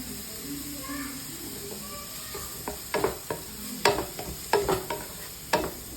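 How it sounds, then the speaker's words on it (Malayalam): Chopped vegetables and carrot sauté in oil with a quiet, low sizzle, broken by a run of crisp spatula scrapes and taps in the second half. "വെജിറ്റബിൾസ് എല്ലാം കൂടെ എണ്ണയ്ക്കായിട്ട് നന്നായിട്ട് വഴട്ടിയെടുക്കാമേ"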